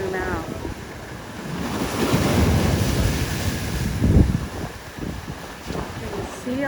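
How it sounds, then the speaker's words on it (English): Ocean waves break and wash continuously along Maalaea Bay, Maui, with a heavy surge midway, under gusting wind noise buffeting the microphone and a person talking over it. "Look at these waves."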